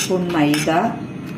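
A spoon stirs melted jaggery syrup and maida in a bowl for Kerala-style sweet idli batter, giving a short close scrape and clink of metal against the bowl.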